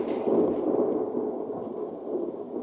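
A deep, sustained rumble like a thunder strike sound effect, loud and broad, rolling on steadily for a few seconds without pause or any voices.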